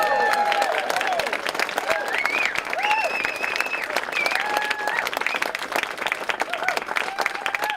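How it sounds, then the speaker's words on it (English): Crowd clapping at a political gathering in Huron-Bruce where a candidate announces a Federal Liberal nomination bid, steady applause throughout with voices and cheering mixed in. "So I'm glad to hear all that clapping"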